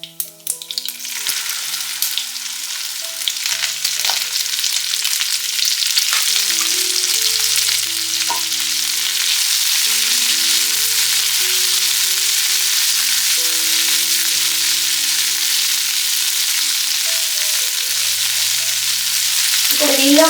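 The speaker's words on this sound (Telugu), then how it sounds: "ఇప్పుడు దీనిలో మనం ముందుగా కట్ చేసి పెట్టుకున్న బెండకాయ ముక్కలను వేసుకోవాలి." Okra pieces frying in tempering oil, a steady loud sizzle holding for about twenty seconds with soft background music tones underneath and no talking.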